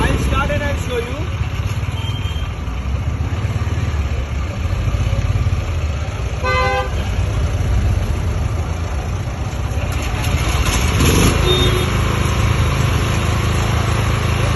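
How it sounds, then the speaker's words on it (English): Ultra compact petrol portable generator set, started by recoil, running with a steady buzzing engine drone close by, while someone talks over it throughout. "Ultra compact petrol generator set."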